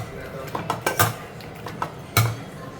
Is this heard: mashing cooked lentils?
yes